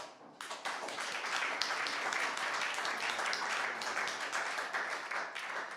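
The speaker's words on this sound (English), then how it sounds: "give them a big applause" Sustained audience applause greets two guests, Heiko Barnerßoi of CiteeCar and Jay Cousins of Open Design City, at an interview event; dense clapping holds steady and fairly loud throughout, with no talk over it.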